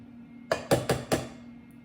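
Four sharp metallic clinks in quick succession as scoopers tap against a muffin pan while pumpkin cupcake batter is portioned out, close and clear in an otherwise quiet room.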